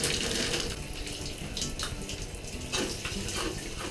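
Shower water runs steadily from a nearby head, a continuous hissing spray with occasional splashes and shifts as something moves through the stream.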